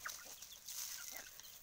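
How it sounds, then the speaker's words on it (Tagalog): Soft, scattered clucking from several chickens sounds at a modest distance, with faint chirps over a hissy outdoor background. "Dami mong manok."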